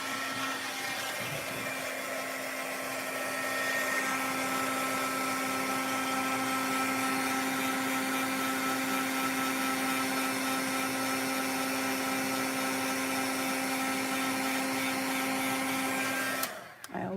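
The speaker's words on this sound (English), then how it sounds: "let me get my heat tool here and we will get this set. So it's going to be a little bit noisy." A heat embossing tool blows hot air in a steady, fairly loud whirring hum with a constant tonal whine, running unbroken for about sixteen seconds before cutting off abruptly.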